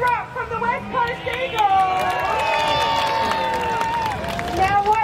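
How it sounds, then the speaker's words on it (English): A festival crowd at the WA Day mascot race applauds Wally the mascot, with clapping and cheering blended into a busy hubbub while voices chatter throughout. "Give Wally a big round of applause."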